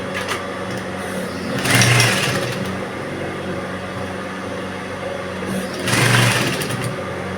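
Sewing machine running two short bursts of stitching along a pinned gown seam, each lasting about a second, with quiet handling between them and no talking.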